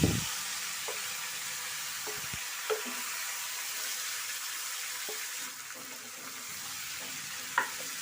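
Beef marinated for an hour is dropped into hot oil in a pan for curry, giving a steady soft sizzle with occasional clinks and stirring sounds, close and fairly quiet.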